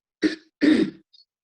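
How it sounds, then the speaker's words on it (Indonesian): Two quick, harsh coughs from one person, close and fairly loud, followed by a short silence. "Maaf, saya lagi batuk."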